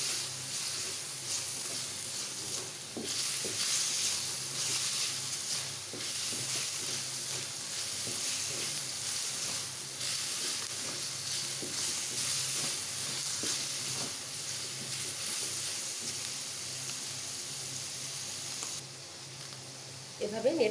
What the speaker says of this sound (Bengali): এভাবে নেড়ে নেড়ে 3 থেকে 4 মিনিট চিকেনটাকে ভাজতে হবে।